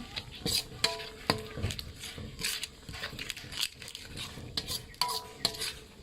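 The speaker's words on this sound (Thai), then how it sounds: "ผัดให้หอม" A spatula scrapes and clinks against a pan as ingredients are stir-fried for a Thai curry with ivy gourd and fresh shrimp. The metallic taps come close and irregular over a faint sizzle.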